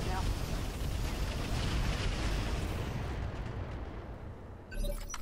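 Roguetech mech weapons firing at an enemy mech: a heavy, rumbling barrage of blasts and explosions that holds loud for several seconds, then fades, with a final thud near the end.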